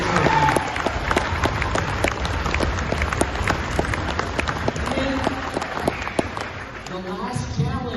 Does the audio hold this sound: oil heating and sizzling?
no